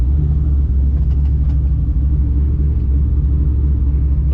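Steady low rumble from a Ford SVT Cobra's engine and new exhaust while cruising, a continuous droning hum heard from inside the car with no other sounds over it.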